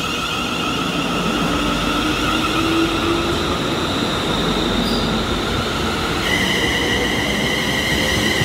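A Class 380 electric train passes close by at Cardonald station in Glasgow, bound for Glasgow Central, with a loud, steady rumble of wheels and a thin metallic squeal running throughout. There is no talking.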